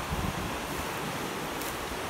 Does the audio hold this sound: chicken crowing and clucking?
no